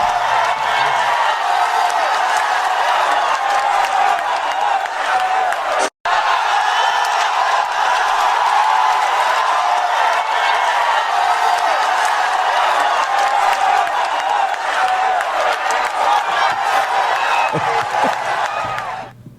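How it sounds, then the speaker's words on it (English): A studio audience on a talk show applauds and cheers for about nineteen seconds, dense and loud with whoops throughout, cutting out briefly once before resuming. "See, it was the applause."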